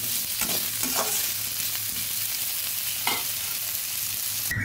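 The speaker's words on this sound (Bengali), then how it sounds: "সজনেটা কিছুটা নেড়ে নিয়েছি, এবার তুলে নিচ্ছি" Drumstick pieces sizzle in hot oil in a wok, with a constant frying hiss and occasional scraping stirs of a spatula, close and alone.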